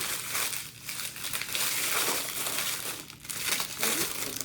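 Plastic wrap peeled and crinkled off a printed paint-can candle, close and crackly, with bursts of rustling that rise and fall over a few seconds.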